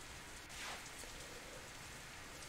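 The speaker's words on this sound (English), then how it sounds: "Oh, there's the rain." Steady rain falls across a game scene from the visual novel Katawa Shoujo, a soft, even hiss with no voices and no pauses, unchanged from start to end.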